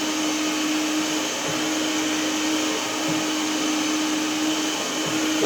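Gladwell gecko robot window cleaner crawling across a window pane, a steady whirring suction motor with a constant tonal hum that runs loud and unbroken from start to finish.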